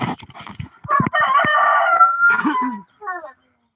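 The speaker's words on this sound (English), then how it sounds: "These are all roosters." Several rooster crows overlap nearby at a rabbit barn, one long loud call followed by a shorter fainter crow, with clucking and rustling noises at the start.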